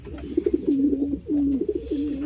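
Pigeons kept for sale cooing close by, with repeated soft, throaty coos in short rolling phrases over a faint background hum.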